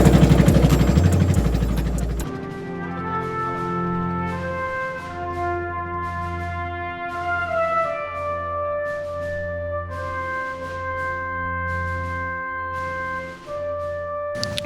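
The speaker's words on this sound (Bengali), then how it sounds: "নৌকা এখন আরো কিছুটা ভেতরের দিকে চলে এসেছে" A small boat's engine runs steadily on floodwater, a loud droning hum with a clear buzzing tone and pitch shifts as it changes speed, preceded by a brief burst of harsher noise at the start.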